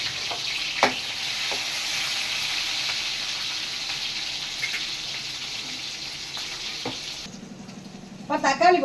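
Fennel seeds and shallots sautéing for Madurai prawn thokku give a steady close sizzle with a few utensil scrapes. The frying dies out near the end, and brief clattering follows.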